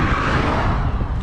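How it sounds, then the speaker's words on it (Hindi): A motorcycle on a mountain road near the Russia border, its engine suddenly coughing and sputtering; a loud, close, continuous engine and road roar with slight dips in level. "अरे बाइक अचानक से खांस रही है।"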